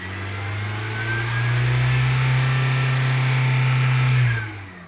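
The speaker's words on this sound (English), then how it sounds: "Rev it up again." A Honda car engine with a knock sensor fault revs up from idle, holds a steady high drone for a couple of seconds, then drops back, close and loud with no voices.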